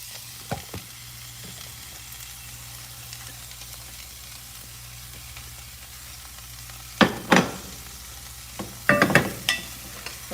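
Celery and peppers sizzle with onions in a hot pan, a steady low frying hiss broken by a few sharp crackles and stirring clatters toward the end, heard alone without talk.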